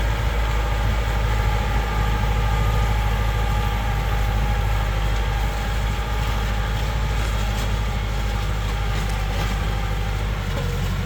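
A Kubota L5018 tractor with an air-conditioned cab runs steadily, a low continuous engine drone and rumble with no pauses, heard close and loud throughout.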